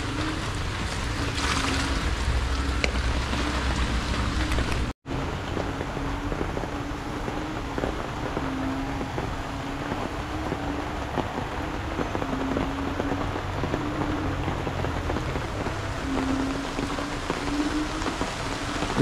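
Heavy rain pours steadily and loudly onto surfaces during a flood, a dense continuous hiss with a brief dropout near the five-second mark, then constant downpour with no voices.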